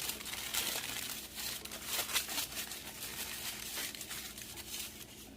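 Aluminium foil is crinkled and squeezed by hand into a round ball, a continuous close crackling with brisk bursts of rustling throughout.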